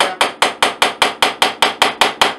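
A hammer taps a small center punch against metal to mark a spot for a drill bit, about a dozen sharp, evenly spaced metallic strikes in quick succession, loud and close with no talk.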